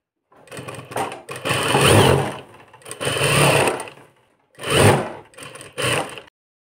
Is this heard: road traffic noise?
no